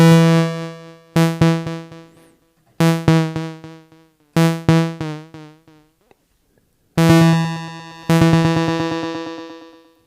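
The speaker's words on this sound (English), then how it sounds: "And then through the delay pedal, sounds like this." Prophet Rev 2 synthesizer run through a Starlight Echo Station delay pedal: a series of short plucked synth notes, each trailing quick repeating echoes that decay, ending on a longer note with a smeared delay tail.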